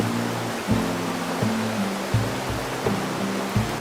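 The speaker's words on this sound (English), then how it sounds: "it started to rain. The water in the river increased and started to flood" Rain falls on a swollen, flooding river in an animated scene, heard as a steady broadband rush of water with low rumbling swells recurring about every second or so, loud and continuous with no talk.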